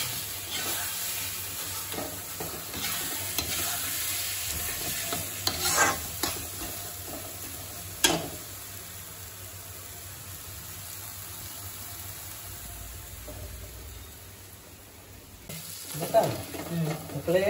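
Mutton masala frying and being stirred in a pan for a traditional mutton gravy, a steady close sizzle with scraping spoon strokes and sharper clatters near the middle and end.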